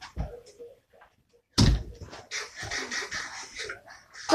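A wooden door in a Minecraft-style building game shutting with a sharp, close thud, followed by a rustling clatter of game noise.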